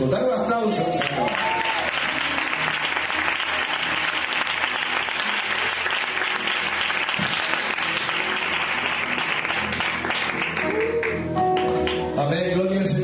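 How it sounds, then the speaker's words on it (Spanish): Church congregation applauding steadily during a prayer service, a dense wash of clapping lasting almost the whole stretch, with voices heard faintly at the start and end. "Dar un aplauso, Señor."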